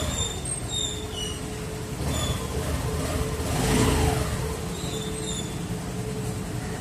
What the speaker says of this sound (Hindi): ये जो स्कूटी स्टार्ट हुई है ये साइलेंटली स्टार्ट हुई है